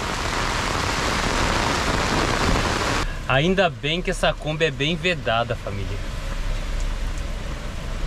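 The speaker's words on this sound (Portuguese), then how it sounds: "Olha a chuva." Heavy rain drumming on and around a parked Kombi van under a tree, a dense continuous hiss that fills the first few seconds alone before someone talks over it while the downpour keeps roaring.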